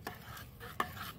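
Buttermilk being stirred in a container by hand for treating a potted curry leaf plant on a terrace: a few soft, faint sloshing and scraping strokes, close by and quiet, with one brief sharper knock partway through.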